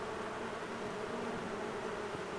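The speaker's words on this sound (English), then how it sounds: "the homeowner was nice enough to let us know that there was a swarm in this cherry tree" A honey bee swarm hangs in a cherry tree in Red Bluff, producing a faint, dense, steady buzzing drone throughout.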